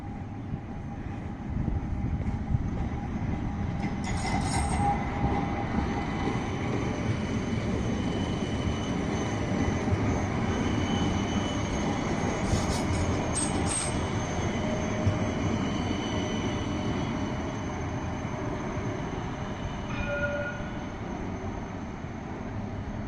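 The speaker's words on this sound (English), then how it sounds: "One of our trams." Parramatta light rail tram passing, a steady low rumbling roll that builds and holds, with brief high wheel squeals near the middle and a faint tone toward the end.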